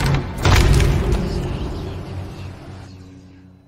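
A booming video-game bomb explosion bursts loudly, then its rumble slowly decays over several seconds, heard alone without talk.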